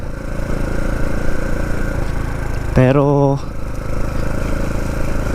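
A Kawasaki KLX trail motorcycle engine runs steadily on a slippery dirt trail, with a loud continuous drone and a brief rising rev in the middle, while someone talks over it.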